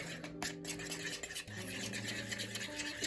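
Hair dye colour gets stirred and mixed for a Monster High Frankie Stein doll reroot, a soft scraping and swishing over background music, with no talk.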